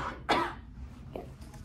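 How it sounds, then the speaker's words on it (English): A single sharp cough bursts out near the start, followed by a quieter breathy sound and faint room noise. "we're gonna have you cover your mouth with your elbow and cough"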